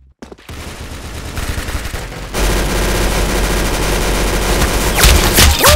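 Rapid, continuous gunfire from the Roblox game Arsenal, with dense overlapping shots that grow louder and almost never pause.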